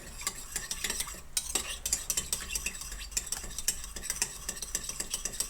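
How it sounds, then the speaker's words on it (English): Rice with white pepper stirred in a pan, rapid repeated scraping and clinking of a utensil against the pan over a soft sizzle, close and busy throughout, no voice. "So I'm gonna stir that."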